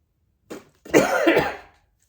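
A short cough followed by a longer, rougher cough-like burst, close and fairly loud, with silence around it.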